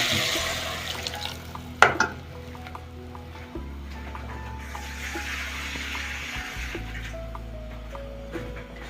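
Chicken broth and water poured by ladle into a cooking pot, a steady liquid pour with a sharp ladle knock near the start, continuing under a low kitchen hum.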